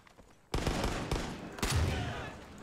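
Shotgun fire in the co-op video game Far Cry 5: a few sharp blasts, a loud one at the start and another about a second later, with rumbling tails and faint game noise between them.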